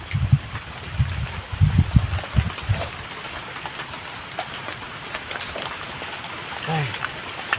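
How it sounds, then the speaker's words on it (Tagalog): Steady rain hisses and patters around an outdoor fishing spot in Bohol, a continuous wash of noise broken by a few low thumps near the start and a brief murmur near the end. "Humina yung ulan,"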